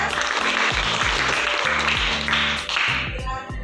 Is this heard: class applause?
yes